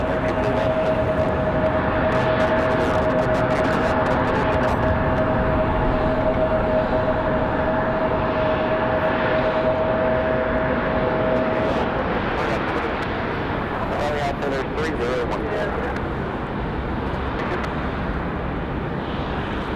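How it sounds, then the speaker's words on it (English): An American Airlines Airbus A321 jet departs Raleigh-Durham International, a loud continuous engine roar filling the whole stretch, with a steady tone fading partway through and a faint voice talking under the noise. "This A321, American Airlines 1897 off to Charlotte."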